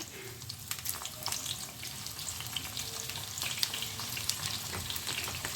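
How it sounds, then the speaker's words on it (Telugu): Stuffed bitter gourds frying in hot oil, a soft continuous sizzle with scattered pops and crackles, close but fairly quiet throughout. "ఆయిల్ వేడెక్కిన తర్వాత ఒక్కొక్కటి దీంట్లో వేసుకొని బాగా ఫ్రై చేసుకోవాలి"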